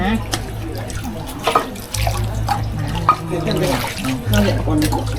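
At a Chiang Mai shrine, water is scooped and poured over hands beside a basin outside, making steady splashing and trickling while a voice talks over it.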